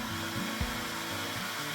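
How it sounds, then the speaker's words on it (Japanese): A hair dryer blows steadily on a water-damaged DJI Neo palm-sized drone, a close, continuous whooshing hum with a faint low drone and a small bump partway through, and no talking. "そしてドライヤーをかけます。"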